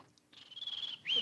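A voice imitates a bird with a long, thin whistled call that ends in a brief rising chirp, alone against silence.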